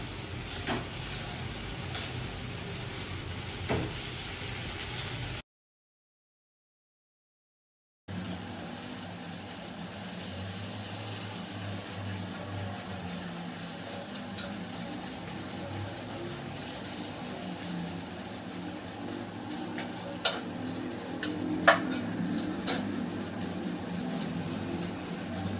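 Rava dosa cooking on a hot pan, a steady low sizzle and hiss running throughout with a brief dropout, occasional faint clicks and no talk over it.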